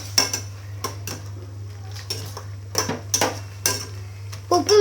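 A metal spoon stirs Maggi noodles and masala in a pan, giving a series of irregular, close clinks and scrapes over a faint low hum.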